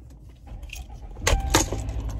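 Keys jangle close by in short metallic bursts while a car is being started on a cold morning, with low engine rumble underneath and two sharper clinks near the end.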